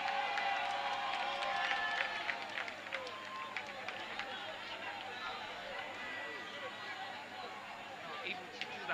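Crowd cheering after a touchdown at a flag football game in Nigeria, a dense sustained roar of voices with scattered shouts, steady and fairly loud across the whole stretch.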